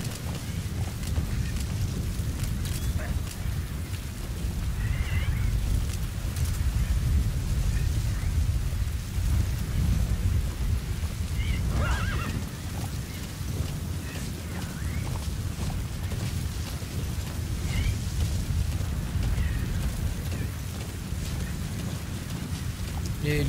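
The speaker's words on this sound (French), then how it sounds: "Oh putain, une tempête de sable." A sandstorm in the video game Metal Gear Solid V, a dense, steady roar of wind-driven noise filling the whole stretch at even loudness, with no talking over it.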